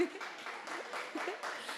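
Crowd clapping at a symposium, a soft, fairly distant patter of many hands lasting under two seconds, with a voice faintly over it.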